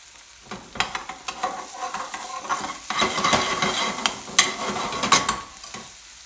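Fresh onions frying in a pan for a garlic chilli chicken sabzi, with steady soft sizzling broken by repeated scraping stirs and occasional utensil clacks, close by and with no talking.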